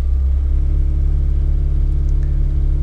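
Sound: turbo car engine revving

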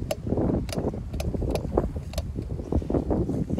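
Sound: wind blowing outdoors

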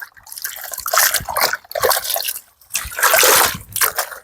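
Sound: wet cloth being moved into clean water

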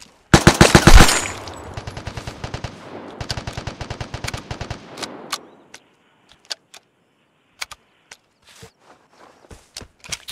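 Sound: gunfire in the video game Vigor

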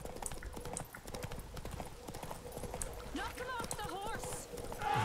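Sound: horse hooves galloping in video game The Witcher 3

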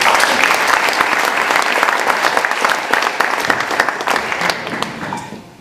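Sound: audience applause

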